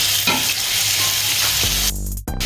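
Tomatoes hit a hot oiled pan already holding onion and garlic, setting off a loud, close, continuous sizzle with stirring noise that ends in a brief sharp cutoff.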